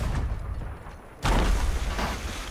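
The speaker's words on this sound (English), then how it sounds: "That was a big explosion." A large explosion in the pirate game Sea of Thieves, a sudden loud broadband blast that bursts in mid-clip over a steady rumbling background and keeps roaring without a break to the end.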